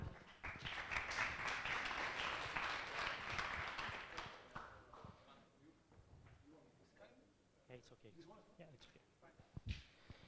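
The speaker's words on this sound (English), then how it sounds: "So a big applause for Roman." A burst of applause from a crowd at a tech meetup talk fills the opening seconds, then fades into scattered claps and faint room noise.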